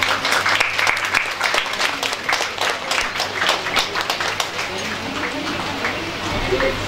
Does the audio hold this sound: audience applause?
yes